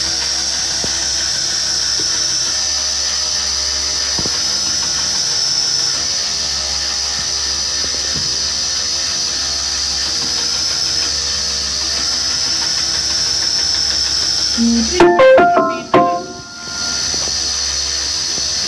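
A belt grinder works a round bar knife on a 320 grit ceramic belt, making a steady, loud whine and hum that swells into a harsher burst near the end.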